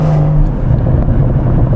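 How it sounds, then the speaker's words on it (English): A Rolls-Royce Ghost Black Badge tuned to 706hp revs loudly and close, its activated exhaust burbling and gurgling in a deep, continuous rumble. "exhaust system and just listen to the gurgles"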